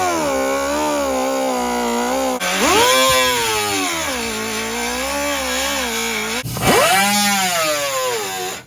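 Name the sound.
power tool cutting a truck's wheel well liner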